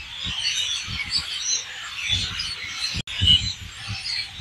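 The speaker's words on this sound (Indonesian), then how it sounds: "Itu adalah burung yang sedang bermigrasi dari utara, barangkali dari Kanada, dari Alaska sana ya." A dense, noisy chorus of thousands of migrating birds calling at once in North America, continuous and busy, with low rustling and thumps underneath.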